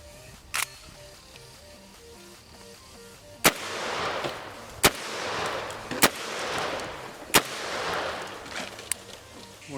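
A magazine-fed 12 gauge shotgun fires at an outdoor range: five or six sharp blasts spread over several seconds, heard at some distance and fairly faint, each followed by a brief rumbling echo.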